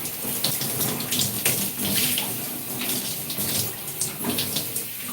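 Running water pours steadily during a wash of 4c natural hair, a close, continuous splashing rush with small fluctuations as it hits the head.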